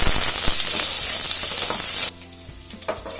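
Curry leaves, onion and dried red chillies hit hot oil while tempering for an okra fry, giving a loud, close, steady sizzle that cuts off abruptly partway through, leaving only faint crackles.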